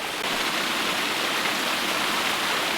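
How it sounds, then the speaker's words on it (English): Steady, dense rush of a cold river waterfall, continuous broadband roar close by with no other sounds and no talk over it. "I found a couple of pieces of pottery in the very, very cold river waterfall"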